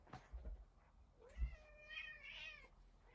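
A house cat lets out one drawn-out, rising meow, faint and indoors, preceded by a few soft thumps of movement.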